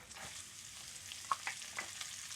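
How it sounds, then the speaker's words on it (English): Onions sizzle and crackle as they fry in rendered bacon fat in a pan for buttery fried cabbage, a steady close hiss broken by a few sharper pops and stirring clicks. "that bacon's browning up nicely. So now I'll put the onions in there."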